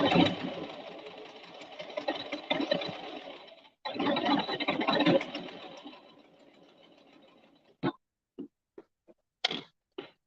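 A Brother 1034DX serger stitches hats and scrunchies in fast, steady bursts with a short pause between runs, followed by a few sharp clicks and taps as the fabric is handled.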